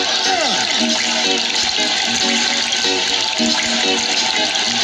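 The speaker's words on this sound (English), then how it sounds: "first turn on the water" Water gushes steadily from a tap in a loud, continuous rush, with music and a voice running over it.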